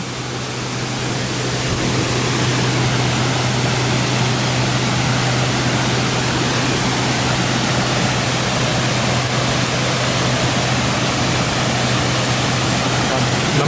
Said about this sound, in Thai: คลิปนี้จะเป็นคลิปน้ำตกช้างนะครับ